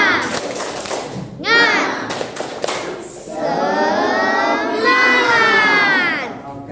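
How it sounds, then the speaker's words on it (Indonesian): A class of students performs a rhythmic cheer clap, with bursts of sharp clapping and thumps mixed with loud chanting and shouting voices of children in a classroom. "buat tepuk semangat dulu"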